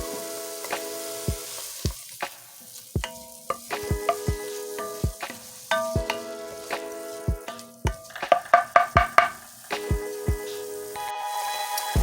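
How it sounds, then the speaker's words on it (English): Minced garlic sautés in a pan for white chicken chili. A steady close sizzle runs throughout, with sharp crackles and pops scattered through it and a denser burst of popping toward the end. No one speaks. "I'm going to add my minced garlic, and we're going to saute that for 1 minute."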